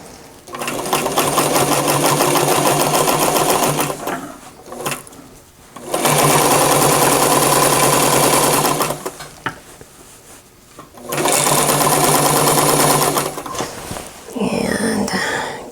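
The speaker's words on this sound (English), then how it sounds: "I'm going to start sewing up at the very top. Back stitch, and here we go." A sewing machine runs in three long, fast bursts of steady whirring stitches with short pauses between, backstitching as it sews zipper tape into the fly of wide-leg pleated pants.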